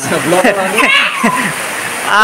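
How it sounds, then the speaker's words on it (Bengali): Heavy rain pours down, a steady broadband wash of water running continuously beneath a person talking loudly and close by. "এই যে দেখো বৃষ্টিটা কি জোরে হচ্ছে এখন"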